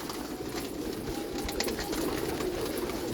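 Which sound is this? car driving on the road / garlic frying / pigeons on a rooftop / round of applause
pigeons on a rooftop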